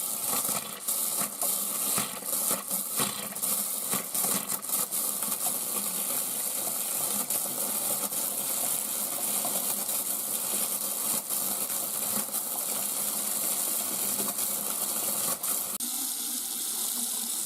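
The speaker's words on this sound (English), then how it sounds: "This probably will pump our well dry pretty quick though." Water gushes steadily from a well pump's line, a continuous loud rushing and splashing like a tap running hard, with faint mechanical clatter early and a slight shift near the end.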